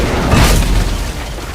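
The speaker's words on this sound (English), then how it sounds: "Then empty the cannons on him, me hearties!" Ship cannons fire during a sea battle in the video game Tales of Monkey Island, a loud, dense cannon boom and rumbling blast that fills the moment and slowly tails off, with no talk over it.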